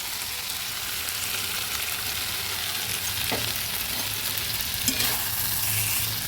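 A paste of ground cashew, melon seed and sesame frying in a pan, with a steady close sizzle and occasional scraping of the stirring spoon, no voices.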